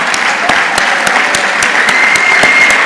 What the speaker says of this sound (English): Round of applause for Ardew Fish.